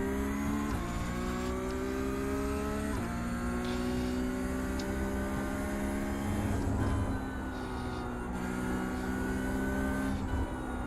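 Race car engine in iRacing at The Bend, a sustained high-pitched tone that climbs and drops repeatedly through gear changes and braking, steady and close throughout.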